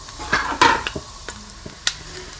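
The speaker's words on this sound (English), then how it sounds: "now I will fry all the garam masala for 5 seconds" Garam masala whole spices frying briefly in hot oil in a pan, with light sizzling and a few sharp crackles and stirring clicks, heard up close with no talking.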